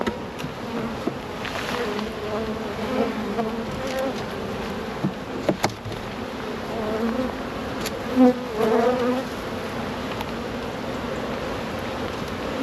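Honey bees buzz around an open hive, a dense, continuous hum close by with individual bees swelling louder as they pass, along with faint handling knocks.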